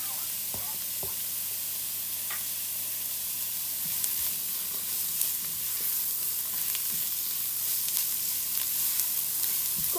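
Chopped celery sizzling in a pan for a spaghetti sauce made from scratch, a soft steady frying hiss with occasional faint stirring clicks and pops, no talk.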